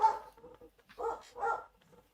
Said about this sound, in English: these dogs started losing their goddamn minds about something